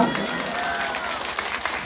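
Audience applause at a Nepali philosophical sermon, a steady, dense wash of clapping that fills the whole moment with no voice over it.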